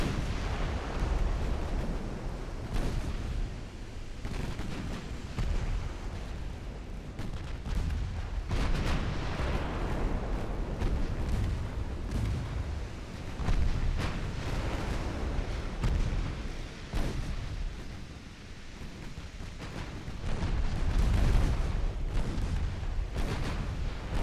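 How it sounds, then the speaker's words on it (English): Secondary guns on a warship in a naval battle in Ultimate Admiral: Dreadnoughts fire again and again over a long stretch, a run of booming, uneven reports and rumbling blasts at varying loudness. "I'm just going to turn on my secondary guns and let rip."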